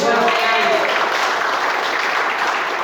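An assembly at a national FORKABI congress in Indonesia responds with broad, continuous applause that fills the whole moment, loud and steady, with a voice briefly audible over the start.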